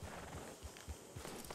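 Hooves of the horse Frost clip-clopping on the ground in Red Dead Redemption 2, a quiet steady rhythm of soft thuds with faint background ambience.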